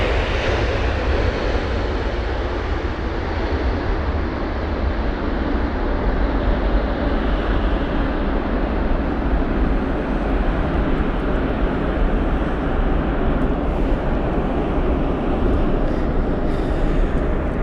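An airliner on approach to land at London Heathrow on a windy day, a loud, steady jet engine roar that holds throughout with a broad rushing rumble.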